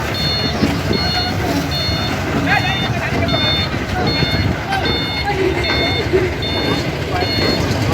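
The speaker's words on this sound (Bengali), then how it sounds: "গাড়ি প্লেস করতেছে, গাড়ি উঠতেছে।" Vehicles, including trucks and buses, reverse onto a river ferry on the windy Panguchi River at Morrelganj, with a steady repeating reversal beeper sounding through constant wind and engine rumble while people talk nearby.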